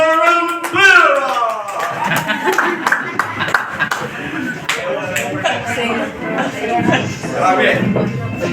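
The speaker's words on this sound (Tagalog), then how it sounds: "At milyon palakpak para kay Power Speaker!" Clapping from a live audience at a DBO gathering in San Miguel, Bohol, rising under an excited announcer cheering for Power Speaker, with loud shouting and crowd noise throughout.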